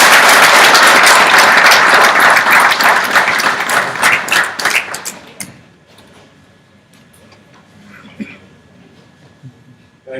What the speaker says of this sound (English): please join me with an Army War College round of applause